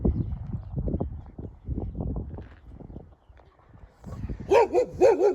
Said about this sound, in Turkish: Bize alışkınlar ama gene de havlıyorlar işte.